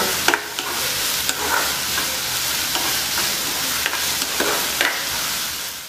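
Prawns frying with salt in a pan for Chinese-style prawn chilli, a loud, steady, close sizzle with occasional stirring clicks throughout.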